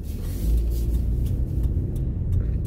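A car passing nearby, a loud, steady low rumble of engine and tire noise that swells and fades over a few seconds.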